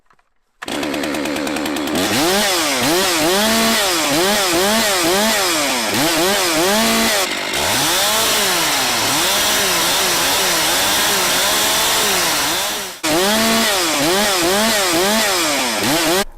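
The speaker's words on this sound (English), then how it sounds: "As soon as you hit the trigger, the saw is there." A 60cc-class chainsaw revving hard and cutting wood: loud, close two-stroke engine screaming at high revs with repeated rising and falling pitch sweeps, a brief dip in the middle and a short break before it picks up again.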